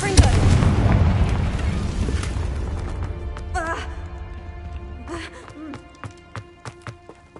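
A Confringo blasting spell explodes in Hogwarts Legacy, a loud booming blast that rumbles and fades over several seconds, followed by scattered sharp pops and bursts of combat, with a voice heard nearby.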